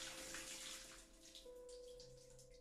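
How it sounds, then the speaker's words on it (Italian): Water pours onto flowers in a video game: a steady broadband splashing stream, fairly quiet and continuous throughout, with a soft tonal hum beneath it and no talking. "Buttiamo l'acqua su questi fiori."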